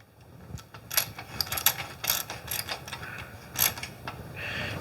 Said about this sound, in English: We're going to use that same 30 millimeter socket.